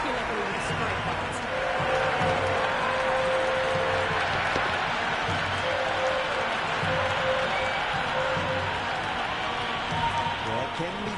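Crowd in a cricket video game applauding a shot, a dense continuous wash of clapping and cheering that holds at steady loudness throughout, with a commentator's voice running over it.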